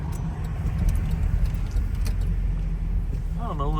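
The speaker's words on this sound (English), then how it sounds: "A lot of afternoon traffic here." Afternoon road traffic passes through a small Georgia town. A steady low engine and tire rumble of a car or two moves close by, moderately loud, with a voice briefly heard near the end.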